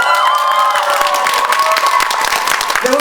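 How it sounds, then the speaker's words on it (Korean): An audience claps and cheers at a student meeting in a campus café at Kyungpook National University, dense steady applause filling the room for the whole stretch with no talk over it. "여러분 큰 박수 부탁드립니다"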